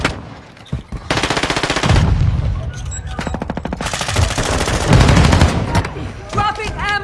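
Rapid machine gun bursts crackle loudly in a first-person shooter game, several long strings of fire with short pauses between them.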